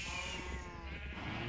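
A sheep in the Minecraft video game gives a single wavering, nasal bleat, moderately close, alone without talk.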